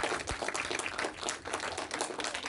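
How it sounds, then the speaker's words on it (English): Audience applause at a talk event, a steady moderate burst of many hands clapping together for a couple of seconds, heard from within the room. "So another applause, please."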